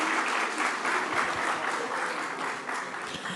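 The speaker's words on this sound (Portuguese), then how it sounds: "Uma salva de palmas para os nossos próximos painelistas." Conference audience applauding panelists being called to the stage, a steady dense clapping that stays loud and even for the whole stretch, with no voices over it.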